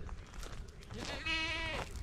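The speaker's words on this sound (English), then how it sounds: "The goats already saw me, so they are hollering for me." On a goat farm, a goat lets out a long, wavering bleat calling for the farmer, close and clear, preceded by softer rustling and faint background noise.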